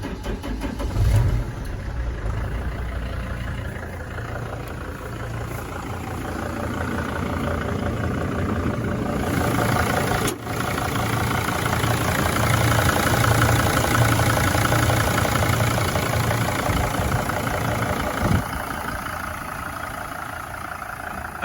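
A rebuilt car engine fitted with new piston rings and a used piston idles nearby, a smooth, even running hum that holds steady throughout, with no knocking evident.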